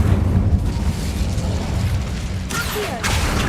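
The Incendio fire spell in Hogwarts Legacy roars as a steady, loud, whooshing blast of flame, with two sharper bursts near the end.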